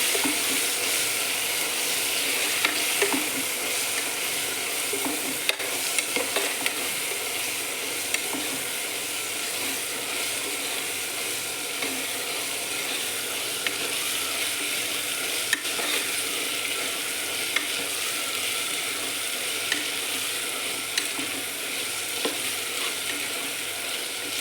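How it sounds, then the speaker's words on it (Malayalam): Ginger and turmeric masala for chicken curry is stirred in a hot pan, a long continuous hiss of frying with scattered spoon knocks and scrapes against the pan, nearby and without talking. "നല്ലവണ്ണം മസാല പിടിച്ച് യോജിപ്പിക്കുന്നത് വരെ അങ്ങനെ ഇളക്കിക്കൊണ്ടേയിരിക്കണം"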